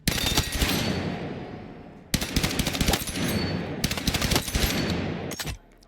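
An RPK light machine gun fires in Battlefield 6 in three loud, sustained automatic bursts of rapid shots with brief gaps between them. There is no talk.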